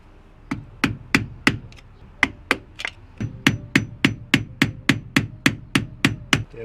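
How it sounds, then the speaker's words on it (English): A flathead screwdriver works at a stuck car battery terminal with a rapid series of about twenty sharp metallic knocks, steady and close, with no voices. "try to put a flathead between it, see if I can break it loose"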